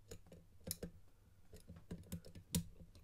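Lock pick working the pins of a dice-concept challenge lock, giving a series of faint, sharp clicks and ticks at an irregular pace, close and quiet, with no talking.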